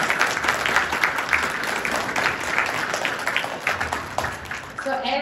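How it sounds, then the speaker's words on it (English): Audience applause at a fifth grade pinning ceremony for students recognized in class, steady dense clapping from a school crowd filling the room, with a voice briefly talking near the end. "let's give them a huge round of applause"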